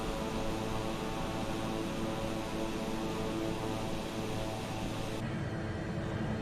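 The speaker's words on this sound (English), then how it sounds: "You can even hear the wind noise now." Steady, broad wind rush fills the cockpit of a Beechcraft King Air in Microsoft Flight Simulator 2020, layered over a constant tonal engine drone, with the hiss dropping slightly near the end.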